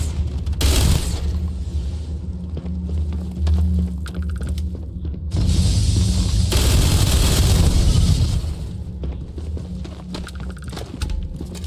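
Gunfire and explosions in Starfield: Shattered Space, heavy booms and rolling blasts over a dense low rumble, with sharp shots scattered throughout and two long sustained roaring bursts, loud and close.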